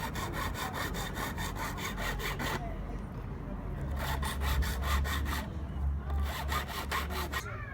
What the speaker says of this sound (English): And then we're just going to get the file on there and just file it up.